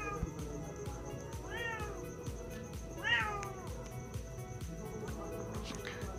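A cat meowing indoors, several drawn-out, rising and falling meows spaced a second or two apart, fairly near, over a steady background hum with a faint high tone.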